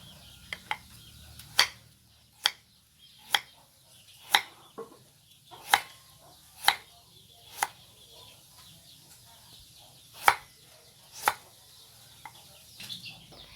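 A knife chops radish into thin strips on a cutting board, producing sharp, isolated taps about once a second in a slow, steady rhythm over a quiet background.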